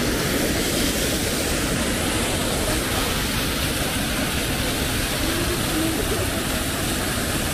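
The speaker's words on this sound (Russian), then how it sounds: "Ну вот, дошли мы до водопада прям." A mountain waterfall in Ayusay gorge, Ile-Alatau, gives off a loud, steady broadband roar of falling water that fills the whole stretch without pause or change.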